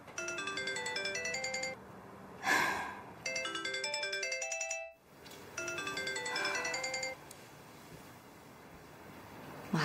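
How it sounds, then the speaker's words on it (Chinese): A telephone ringtone plays its repeating melodic phrase three times at moderate volume, with short pauses between the rings, in an indoor domestic scene with no voices over it. "在呀，正阳，您叔的电话"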